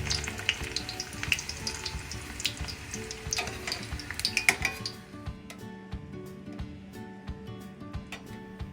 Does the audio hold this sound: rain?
no